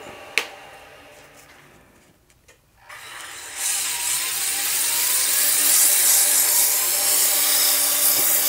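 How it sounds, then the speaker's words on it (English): Wooden honey dipper spinning on a lathe while 240-grit sandpaper is pressed against it, a loud continuous hissing scratch that swells in after a short mechanical click and quieter whir. "And now I'll switch over to 240 grit."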